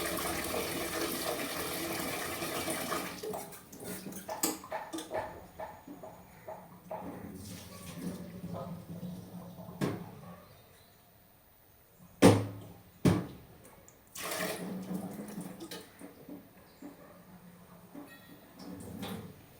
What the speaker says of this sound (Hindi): चावल धोना जरूरी है